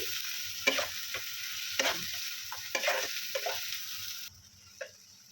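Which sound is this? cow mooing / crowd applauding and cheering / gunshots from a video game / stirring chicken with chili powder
stirring chicken with chili powder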